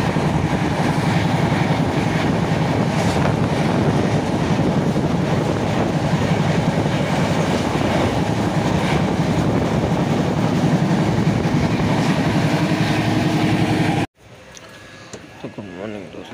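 Steady, loud rumble and rattle inside a moving Shalimar Express passenger train between Mumbai and Nagpur, continuous wheel-on-rail noise filling the cabin before it abruptly drops to a quieter interior hum.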